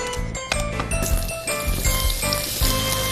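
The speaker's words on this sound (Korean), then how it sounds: "제가 고명으로 올릴 호박을 좀 볶아 볼 건데요. 기름을 좀 두르고요." Sliced zucchini stir-fries in oil in a pan for a noodle garnish, a steady close sizzle broken by scraping and clinks as the pieces are tossed.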